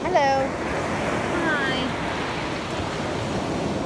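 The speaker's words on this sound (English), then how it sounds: "the way the ocean is throwing up waves" Ocean waves and gusting wind roar steadily along the coast near Panama, with a few faint high chirps briefly rising above the continuous surf.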